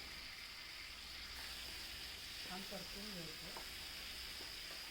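Brinjal and potatoes stir-frying in a pan with a faint, steady sizzling hiss and a soft thud or scrape of stirring partway through, all heard at low volume.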